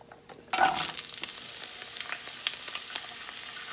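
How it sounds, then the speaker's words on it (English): Celery pieces dropped into a hot wok, setting off a sudden loud sizzle that settles into a steady crackling fry, close up and with no voices. "the wok is about ready to go, so I'm going to put that celery in there first"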